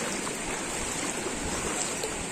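A river stream flows steadily, a dense continuous rush of water heard up close without a break.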